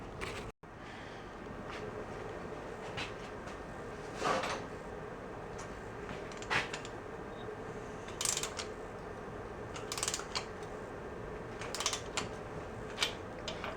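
Torque wrench tightening bolts on a 1967 VW engine, set to about 15, giving a run of faint clicks and ratcheting ticks spaced every couple of seconds over a steady low background hum.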